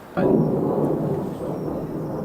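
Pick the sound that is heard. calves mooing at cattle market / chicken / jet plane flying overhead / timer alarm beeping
jet plane flying overhead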